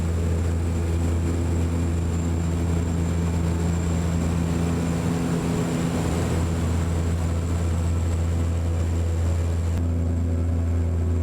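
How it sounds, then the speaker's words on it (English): A small propeller plane on a flight in Iceland drones loudly and steadily from the cabin, its engine hum constant throughout with no voices. "Here's a little prop plane that we got."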